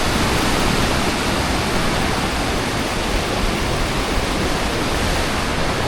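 Arambeo Falls in Naujan, Oriental Mindoro, swollen after recent rain, gives a loud, steady, unbroken roar of rushing water that fills the scene close by.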